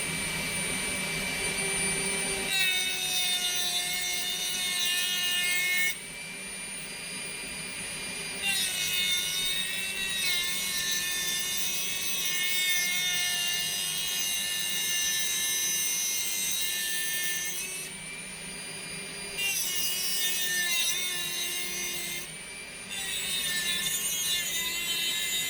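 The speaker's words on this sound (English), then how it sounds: "And then fire up Mr. Dremel." A Dremel rotary tool with a cutting disc cutting on a Range Rover bonnet catch and bumper job gives a loud, steady high-pitched whine, with several short breaks where the pitch drops and then rises again.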